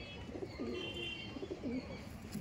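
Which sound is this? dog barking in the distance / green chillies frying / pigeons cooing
pigeons cooing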